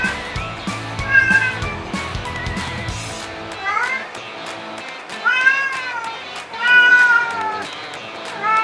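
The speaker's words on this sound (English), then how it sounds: "Well, my cat is screaming, but I don't care." A pet cat meows loudly in repeated drawn-out cries, some rising and falling in pitch, against background noise indoors.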